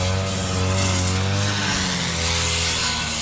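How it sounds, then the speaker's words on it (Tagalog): A motorized grass cutter runs steadily and loudly up close while cutting grass, its engine drone continuous for the whole stretch. "at magdadamon lang muna tayo at yung grass cutter natin gamit"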